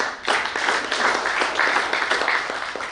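A crowd at a Catholic sisters' vaccine campaign launch gives a priest a round of applause, dense continuous clapping at moderate volume with a few distinct claps standing out.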